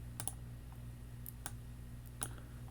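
Computer mouse clicks while working in Excel 2016: three short, crisp clicks spaced about a second apart over a steady low hum, no talking.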